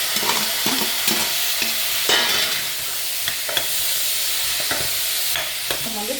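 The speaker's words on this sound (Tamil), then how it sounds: "நான் இதில் குழம்புக்கு பீட்ரூட்டை சேர்க்க போகிறேன்." Beetroot being stirred into curry in a pan, with repeated scraping strokes of a spoon against the metal over a faint steady sizzle, close up and with no talking.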